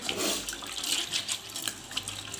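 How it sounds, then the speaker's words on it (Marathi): Running water from a kitchen tap as lentils (dal) are rinsed clean, a steady close splashing and gurgling flow throughout with no talking. "या डाळी स्वच्छ धुवून घ्यायच्या"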